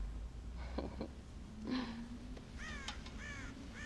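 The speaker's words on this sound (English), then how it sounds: "God damn crows!" Crows in the Red Dead Redemption video game give several harsh caws, first a pair of short calls, then a louder one and a final burst of raspy cries over low ambient game noise.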